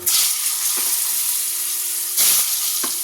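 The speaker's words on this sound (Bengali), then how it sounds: "এই মাশরুমগুলোকে একটু ফ্রাই করে নেবো" Mushrooms sizzle and fry in hot oil in a wok, a steady bright hiss with a few sharper bursts as they are tossed, close and alone with no talk.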